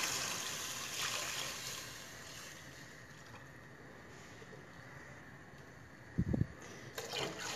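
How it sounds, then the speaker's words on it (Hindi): Chicken stock poured into a pot of chicken corn soup, a steady close liquid rush and splash running for several seconds, then a couple of brief knocks near the end. "मिक्स करने के बाद अब इसमें यखनी ऐड कर देंगे"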